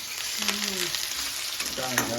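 Steady sizzling of leftover roti being tempered and fried in a pan, with a few faint tonal sounds and light clatter over the constant crackle.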